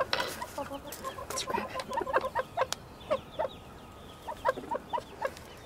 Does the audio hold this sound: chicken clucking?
yes